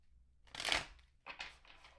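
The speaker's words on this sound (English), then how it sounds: "I'm shuffling a little bit on that side because I don't want these cards to like blow away" Tarot cards are shuffled in two quick bursts, soft papery riffling and slapping, close and quiet with no talk.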